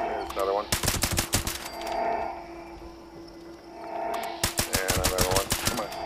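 Rapid automatic gunfire with exploding bullets in the video game Fallout 76 comes as two loud, close bursts of fast rhythmic shots separated by a brief lull with a lingering hum.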